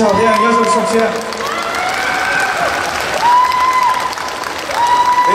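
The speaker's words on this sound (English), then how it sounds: "round of applause for our first annual essay winner" An audience applauds the first annual essay winner at a Hmong writing contest, continuous clapping mixed with cheers and voices, loud and close, with tonal sounds rising through the crowd noise.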